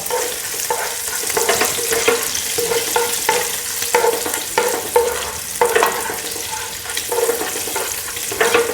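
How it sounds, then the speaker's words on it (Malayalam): Ginger sautés in a pan for chilli chicken with a loud, steady sizzle, broken by repeated scraping stir strokes close up. "ഇതിന് നമുക്ക് നല്ല രീതിയിലൊന്ന് വഴറ്റി കൊടുക്കാം കേട്ടോ"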